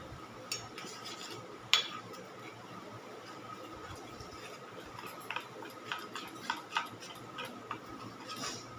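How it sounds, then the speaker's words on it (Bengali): Spoon stirring spice paste with a little water in a bowl for a cauliflower malai curry, giving faint, irregular light clinks and scrapes against a quiet kitchen background. "একটু জল দিয়ে আমি দেখো মশলাটাকে গুলিয়ে দিচ্ছি একটু সুন্দর করে"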